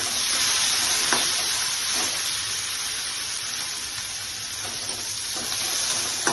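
Grated onions frying in ghee with cinnamon and cardamom give off a loud, steady, close sizzle that hisses without pause, with a few faint clicks from stirring and no voices.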